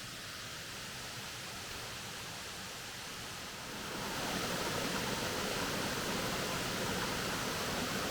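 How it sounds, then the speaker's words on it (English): Dutter's Run Falls in Pennsylvania's Loyalsock State Forest gives a steady, full roar of rushing water over a creek drop, growing noticeably louder and closer partway through, with no voices. "this is the drop over the falls"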